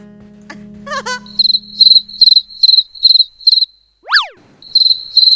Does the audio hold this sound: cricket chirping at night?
yes